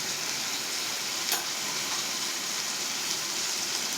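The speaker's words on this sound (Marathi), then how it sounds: "इकडे दोडका चांगला भाजून झाला आहे, तेलामध्ये चांगला भाजलेलाच आहे" Ridge gourd pieces frying in hot oil in a pan, a steady close sizzle with a faint stir or clink partway through, no talking.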